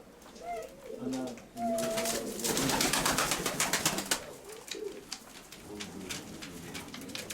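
Pigeons kept at a home loft coo in soft, low, repeated calls near and far, with a burst of wing flapping and bustle in the middle and people talking nearby.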